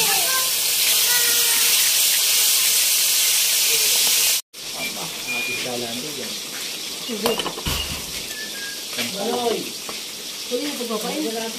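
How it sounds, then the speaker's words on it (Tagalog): Lamarang fish frying in a pan, a loud continuous hissing sizzle that cuts off abruptly, followed by quieter crackling and sputtering oil under a person talking. "tayo magpiprito na ng ating palang ng lamarang"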